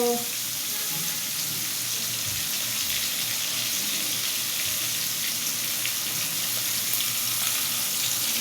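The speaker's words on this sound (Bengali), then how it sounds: "আর মাছটা ভাজা হয়ে আসছে প্রায়, এখন উল্টে পাল্টে দেবো আর কি" Koi fish frying in oil in a pan, a steady loud hiss and crackle that holds unbroken throughout, with no talk over it.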